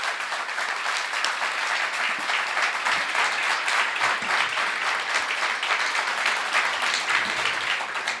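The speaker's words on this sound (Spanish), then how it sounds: "pido un fuerte aplauso" Audience applause after an opera talk, a dense, steady wash of many hands clapping that holds level throughout, full and close with no talk over it.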